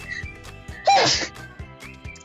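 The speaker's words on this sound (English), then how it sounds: "I'm gonna sneeze again." A single loud, explosive sneeze bursts out over quiet background noise, brief and close to the listener.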